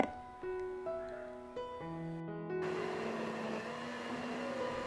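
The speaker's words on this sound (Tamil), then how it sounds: "இப்போ இதை கட்டிகள் எதுவும் இல்லாமல் அரைச்சி எடுத்துக்கணும் அரைக்கும் போது ப்ரெஸ் கிரீம் கொஞ்சம் சேர்த்து அரைச்சிக்கோங்க" A blender grinds cooled milk with fresh cream for homemade vanilla ice cream, giving a loud, steady motor whine that shifts pitch in steps as the speed changes, close and continuous with no talk.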